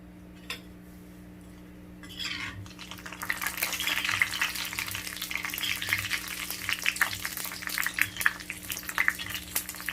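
Urad dal vadiyalu drop into oil and begin to fry, a quiet start giving way to a growing crackling sizzle with clinks and scrapes of a utensil against the pan.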